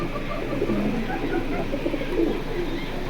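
Pigeons in a fancier's collection cooing in soft low murmurs, steady and close throughout, with faint background voices.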